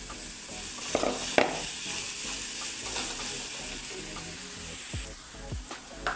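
Green chilies frying in hot oil in a pan while being stirred, a steady sizzle with scraping stir sounds and a few clicks, close and moderately loud, no talk.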